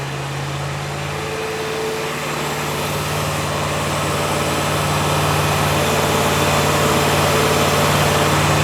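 A junkyard Ford 289 V8 that sat for over 45 years idles on an engine dyno, a loud, steady, even drone with a constant low hum and no talk.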